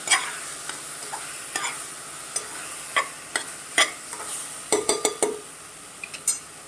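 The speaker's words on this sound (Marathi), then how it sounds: "अख्खा मसूर आपण आता मिक्स करून घेऊया" Whole masoor lentils are stirred in a pan over medium heat: a soft sizzle runs underneath while a spoon scrapes and clinks against the pan in irregular close knocks, busiest toward the end.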